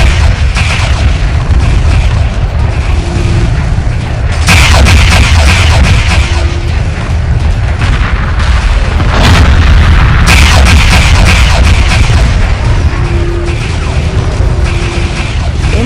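Space battle weapon fire in the Homeworld 2 strategy game: loud, continuous booming barrages and heavy blasts, with several sharp surges layered over a dense rumble throughout.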